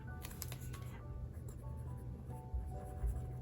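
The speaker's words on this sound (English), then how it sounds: "use my fountain pen once again and write in the word meals" A fountain pen scratches across planner paper in a Hobonichi Cousin in short, soft strokes, faint and close, over a low background hum.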